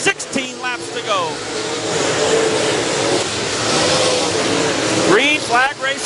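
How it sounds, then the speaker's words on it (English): USRA A and B modified race cars roaring around a dirt track at green-flag speed, loud engine whines rising and falling as cars pass, with an announcer talking over the racket. "Green flag racing all around here now."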